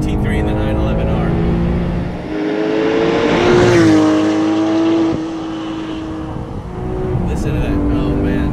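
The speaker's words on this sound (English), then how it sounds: "do you hear that meaty, throaty, kind of bully sound?" A 2018 Porsche 911 GT3 Touring engine drones loudly while driving, a steady throaty note that swells as it revs up, holds, then eases off, with someone talking over it throughout.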